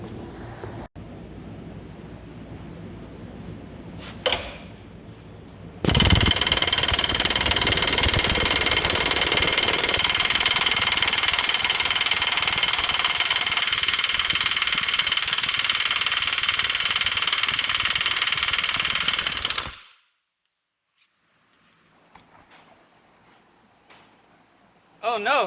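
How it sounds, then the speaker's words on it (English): An Astro 498K air hammer punches a hole in a car control arm, a loud, steady pneumatic hammering that runs for about fourteen seconds and then cuts off abruptly, with quieter handling noise before and after. "Punched a clean hole in that control arm."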